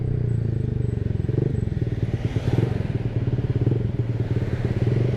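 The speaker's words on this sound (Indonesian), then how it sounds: "Kalau misalkan kalian mau denger RPM atasnya." A Honda ADV 150 scooter fitted with a Pure Sound R9 Alpha Series exhaust revs high and steadily, a close, loud, rapid buzzing drone with a crackly pulsing edge lasting throughout.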